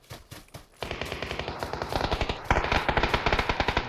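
Rapid automatic gunfire from a PUBG match on the Sanhok map rattles in fast, steady bursts, loud and close, growing heavier partway through, with no voices over it.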